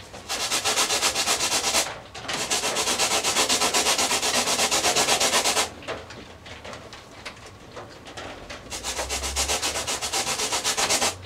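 The nose of an RC airliner model, an Emirates 777-9X, is sanded with long, continuous raspy strokes, loud and close, broken by a couple of short pauses.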